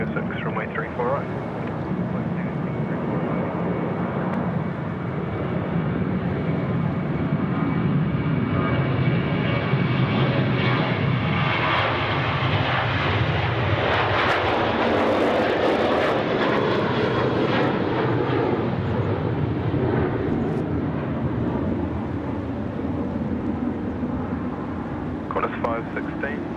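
A Qantas airliner takes off from Sydney Airport runway 34 right, its jet engines roaring loudly and steadily for a long stretch, swelling midway, while air traffic control radio chatter runs underneath.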